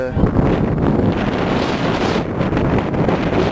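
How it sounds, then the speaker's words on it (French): Strong wind roars continuously across the microphone near a railway station footbridge, a heavy low rumbling buffet with no breaks. "Il y a un peu de vent"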